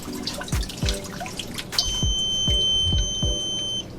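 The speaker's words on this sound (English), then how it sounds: "And you guys can hear it beep." An IceCap ATO optical water sensor pushed below the water line in a reef aquarium gives a sustained high electronic beep among repeated drips and splashes of water, close and clear, with no talk.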